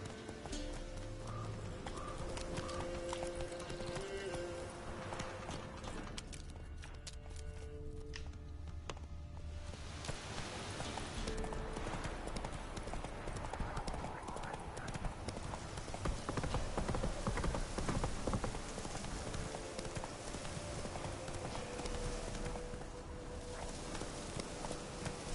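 Roach, a horse in The Witcher 3, clip-clops along in a steady rhythm of hoofbeats over a continuous ambient background, moderately close and fairly soft, with brief faint voice traces.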